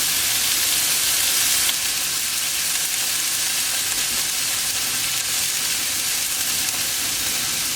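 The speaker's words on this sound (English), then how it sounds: "I am going to sear all 4 sides, or cook, just lightly cook all 4 sides to get that flavor" Beef chunks sear hard in a hot pan for slow cooker Hungarian goulash, a loud steady sizzle and spitting hiss filling the whole stretch with no voices.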